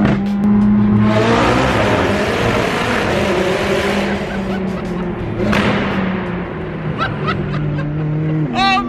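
A Ferrari LaFerrari engine revs hard inside a road tunnel near Malibu, a loud, reverberant rising and falling roar with gear-change dips, harmonics echoing off the walls and faint voices near the end.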